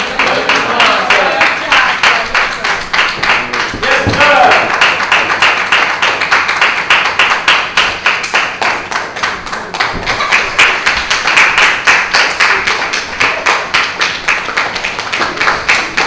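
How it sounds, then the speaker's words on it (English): Sustained applause from an audience, dense steady clapping that carries on loudly for the whole stretch with a faint voice underneath. "Let's bring him up with a hard round of applause."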